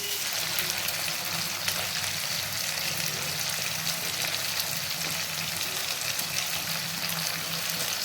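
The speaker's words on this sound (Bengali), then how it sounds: "চিকেনটাকে আমি বেশি ভাজবো না, হালকা করে ভেজে নিচ্ছি।" Chicken and onion paste fry in a pan with a continuous, fairly loud sizzle that holds steady throughout, with faint stirring scrapes mixed in and no voices.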